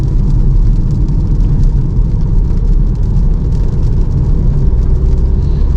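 A 2025 BMW 118i hatchback in sport mode accelerates hard to overtake trucks, its engine droning steadily with loud low rumble and road noise from inside the cabin.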